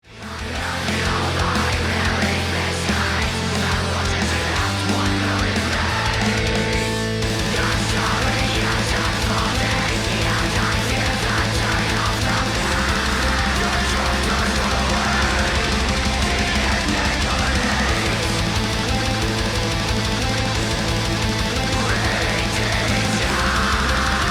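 Black metal mix mastered with Oxford Inflator and an Ozone 11 maximizer: dense, loud wall of distorted guitars and blasting drums with heavy low end, constant and compressed throughout.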